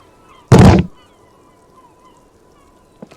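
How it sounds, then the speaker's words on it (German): A boot kicks a small, heavy, unlocked door in Disco Elysium, giving one loud, short thud, followed by a faint knock near the end. "Ich versuche mal die Tür einzutreten."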